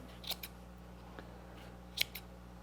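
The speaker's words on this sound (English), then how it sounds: "So I'm going to slide my scissors in here and just cut all those loops open." Scissors cut open loops of yarn with two quick double snips, crisp but quiet and close, separated by faint room hiss.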